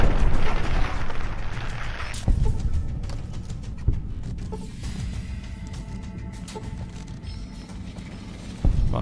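Explosions in the video game Fallout New Vegas: a deep, rumbling boom with a sharp onset, followed by sustained debris and crackle and a second burst near the end, loud and alone.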